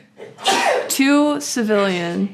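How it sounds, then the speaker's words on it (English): A woman sneezes once, loud and close, with a sharp burst followed by voiced speech as she talks on right after. "I'm going to sneeze, I apologize"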